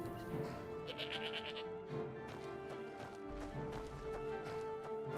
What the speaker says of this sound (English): We have the sheep as well.